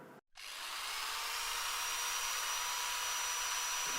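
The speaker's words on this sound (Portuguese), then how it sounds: "A furadeira tá muito em cima." A power drill whirs continuously after a brief pause at the start, a steady high-pitched mechanical whine heard from a distance.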